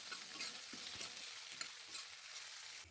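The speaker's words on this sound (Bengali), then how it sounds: "পেঁয়াজটা হালকা লাল করে ভেজে নেব।" A large sliced onion sizzles and crackles steadily in oil in a kadai, with occasional scraping stirs of a spatula against the pan, close and continuous.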